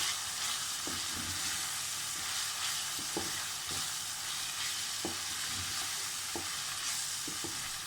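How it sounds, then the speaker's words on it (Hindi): Chicken sizzles steadily in a hot pan for restaurant-style Chinese rice, a continuous frying hiss broken by repeated scrapes and knocks of a stirring utensil against the pan. "यहाँ पर चिकन जो है हमारा अच्छे से फ्राई हो चुका है।"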